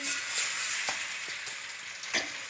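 Chicken pieces sizzle in hot oil in a karahi, a steady close frying hiss broken by a few soft clatters of stirring.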